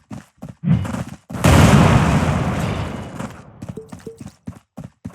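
A video game magic attack bursts out as a loud, dense rushing blast lasting about two seconds, framed by short choppy thumps and impact hits before and after.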